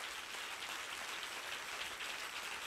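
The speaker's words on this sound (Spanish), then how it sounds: "Si le vas a dar al Señor ese aplauso, dáselo bien" A steady wash of applause from a church congress audience, continuous and fairly faint, sounding distant throughout.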